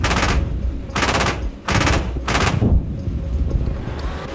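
Marder A1 autocannon in a video game firing rapid bursts, loud and close, several sharp repeated bursts of shots with brief gaps, over a constant rumbling background.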